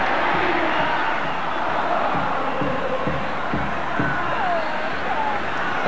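Crowd at a football friendly between Argentina and West Germany, a steady distant roar filling the stadium with a broadcast commentator's voice faintly over it.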